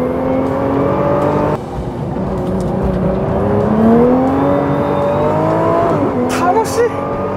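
A 2020 Nissan GT-R NISMO with a 600-horsepower engine accelerates out of a corner, its engine note rising and climbing in pitch, loud and close from inside the cabin, while the driver talks over it.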